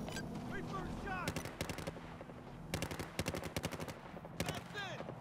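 Rapid bursts of automatic gunfire from the video game Battlefield 4, several sharp volleys in close succession and loud, with faint voices in the background.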